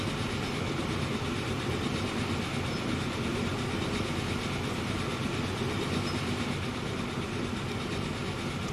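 A freight train hauling fuel rumbles along in the video game Transport Fever 2, a steady, dense, low mechanical roar with faint rhythmic clatter, continuous and even in level with no voices.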